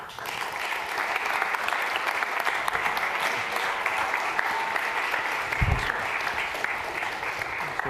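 An audience at an arts and entertainment industry forum applauds steadily to welcome speakers, a full, even wash of clapping that holds at the same level throughout.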